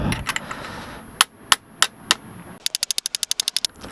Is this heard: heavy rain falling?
no